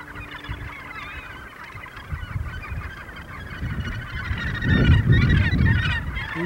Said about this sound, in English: Gannet colony, we have come down to see way out on the tip of the point here.